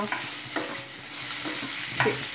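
Ginger garlic paste frying in a pan for Hyderabadi mutton curry, with a constant close sizzle and several distinct spatula scrapes spaced about half a second apart.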